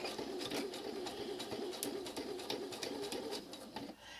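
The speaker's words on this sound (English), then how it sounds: "Now I'm going to keep sewing until I get within a 1/4 of an inch from this edge on the bottom" A sewing machine runs steadily, stitching an autumn-inspired art quilt with a cork edge at a 3.0 stitch length, giving a continuous close, fast mechanical patter.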